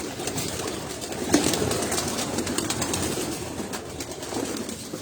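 Breeder pigeons kept on a rooftop coo together in a steady, overlapping murmur, a dense continuous cooing close by with no talk.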